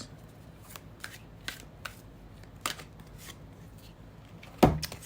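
Tarot cards being shuffled, a run of crisp riffling bursts at irregular intervals, close and moderately loud, ending in a sharper clack.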